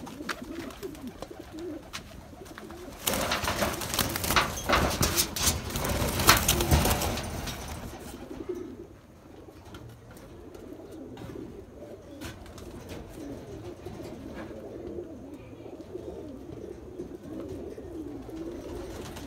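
Pigeons in a cage, a Nagpuri Gire Baaz breed kept for flying, with low cooing and fluttering; a loud burst of rustling and wing movement comes first, followed by steady soft cooing close by.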